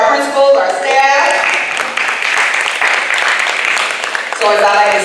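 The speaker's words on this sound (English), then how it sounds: "And yes, clap for our principals, our staff." An audience claps for school principals and staff at a community safety meeting, a loud burst of clapping with cheering voices, bracketed by speech at the start and end.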